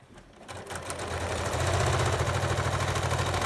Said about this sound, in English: Now I leave it just like that, and then I start sewing my next mask.